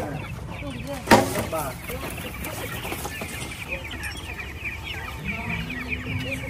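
Chickens clucking at a mountain village in Vietnam, several birds close by with a loud squawk early and scattered clucks continuing under people talking.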